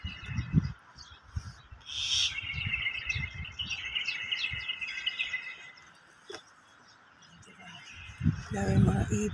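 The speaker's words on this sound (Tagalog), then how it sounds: "Dami mga ibon." Many birds chirp and twitter together in a busy chorus in a water garden, with low rumbling and muffled voices underneath.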